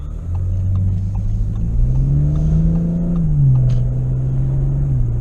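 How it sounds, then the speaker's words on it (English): Steady, muted engine and exhaust drone of a 2018 Audi S5 Convertible in comfort mode, heard from inside while driving; a low hum rises slightly in pitch midway, then settles, evenly loud throughout with no talking. "this is how the car sounds in comfort mode. You can barely hear the exhaust and the engine"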